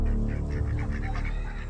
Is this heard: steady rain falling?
no